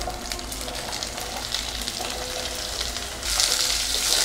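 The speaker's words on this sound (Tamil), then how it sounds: "இந்த கோவக்காய் ஜீரா தாளித்ததுலையுமே நம்ம வந்து இதை போட்டுடலாம்." Ivy gourd is frying in a cumin tempering, a loud and close continuous sizzle that suddenly gets brighter and more intense near the end as the pieces go into the hot oil.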